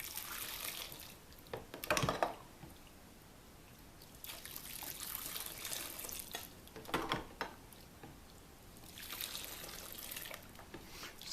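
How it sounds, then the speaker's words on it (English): Hot water is poured over an old SKS rifle to melt off cosmoline, producing quiet splashing trickles in several bursts with soft dribbling between, faint and close with no talk. "pouring some of this hot water while it's still nice and hot"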